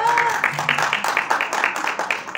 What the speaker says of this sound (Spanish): voy a pedir que le demos también un fuerte aplauso